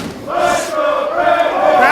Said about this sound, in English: This is the crowd right now.